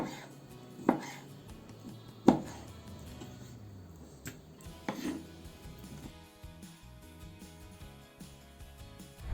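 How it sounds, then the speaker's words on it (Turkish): A knife chops beef kidney into cubes on a cutting board nearby, with a few sharp knocks followed by quieter, irregular cutting and scraping sounds. "şöyle birer çatallık olacak şekilde küp küp doğrayalım böbreklerimizi"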